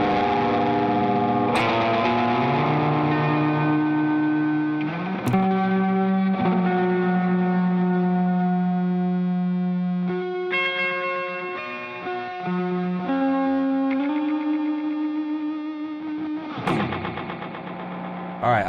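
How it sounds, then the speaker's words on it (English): An electric guitar played through the Old Blood Noise Excess V2 pedal with distortion engaged, giving sustained fuzzy chords and notes with a wavering, echoing tail that rings continuously and loudly, broken by a few sharp pick attacks. "Got the distortion involved again."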